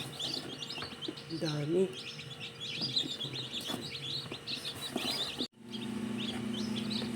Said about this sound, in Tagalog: 25 pieces na mga sisiw nga itong nasa kahon